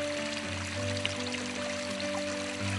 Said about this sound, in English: All you hear is a babbling brook.